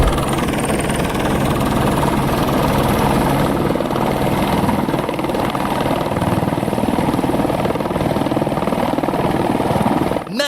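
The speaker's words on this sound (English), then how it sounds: "The helicopter did give me a little scare there for a sec." A helicopter flies close by, a loud steady engine and rotor drone that holds constant throughout and cuts off abruptly at the end, with no talking.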